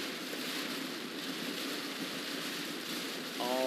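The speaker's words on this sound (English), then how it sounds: "So yeah, still a lot of heavy rain and wind going on in Moore County." Heavy rain and wind during a severe storm in Moore County pour down in a steady, dense hiss close to the microphone, with a voice breaking in briefly at the very end.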